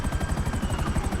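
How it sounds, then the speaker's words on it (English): A British Army Apache attack helicopter in GTA 5 with the LSPDFR police mod thumps with a steady, rapid rotor chop and a constant engine drone, heard close and continuously with no talking. "This is a marvellous helicopter, miles better than any Eurocopter could be."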